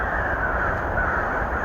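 Crows cawing outdoors, a dense harsh chorus of overlapping calls that stays steady and fairly loud throughout the short stretch.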